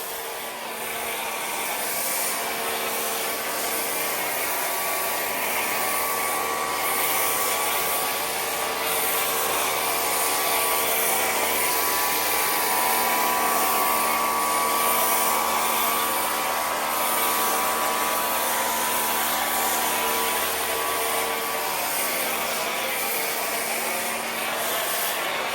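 A car being sprayed with foam before a hand wash, giving a steady, continuous hiss of the foam sprayer close by that runs unbroken for about 25 seconds with no talking.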